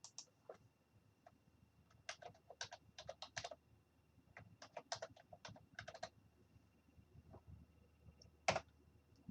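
Soft, quick clicks of typing on a computer keyboard come in uneven bursts with short pauses, faint and close, ending with a louder single key strike.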